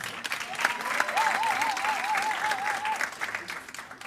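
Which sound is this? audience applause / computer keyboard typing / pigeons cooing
audience applause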